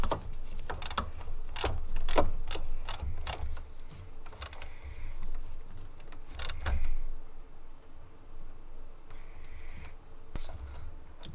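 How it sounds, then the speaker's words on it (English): A ratchet tightening a fastener on a replacement power steering pump in a Nissan VQ40 engine bay, heard as bursts of quick close clicks separated by pauses, with low rumbling handling noise underneath. "we're just going to go ahead and secure it with the ratchet"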